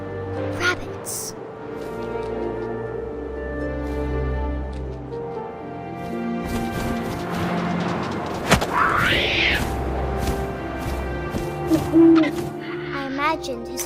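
An owl hoots in a quiet game scene with wind, and a voice narrates over it almost throughout, with soft thumps near the end.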